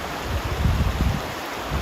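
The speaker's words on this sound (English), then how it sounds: "it's leading to this really pretty mountain creek" A mountain creek in Glacier National Park flows with a steady, close rushing and gurgling of water, a constant broadband wash with a low churning undertone.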